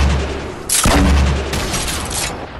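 Sniper rifle fire in the Fortnite Battle Royale video game: a loud, booming shot at close range that rings out and fades, with a second, fainter report following soon after.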